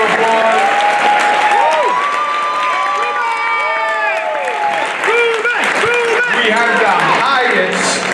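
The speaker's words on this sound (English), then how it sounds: "Let's give him a round of applause." Audience applause and cheering for Bronx Borough President Ruben Diaz at a political event, a dense sustained crowd roar with whoops and shouted voices over steady clapping throughout.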